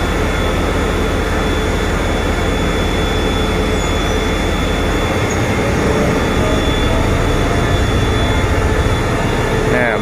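A Thai passenger express train leaving Ratchaburi station, a steady loud rumble of wheels and engine with a thin high whine above it, constant throughout and close by.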